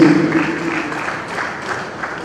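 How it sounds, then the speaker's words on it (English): An audience gives a round of applause for the youth at a policy launch event in Edo State, Nigeria, producing a brief, steady patter of clapping that fades slightly. "A round of applause for the youth."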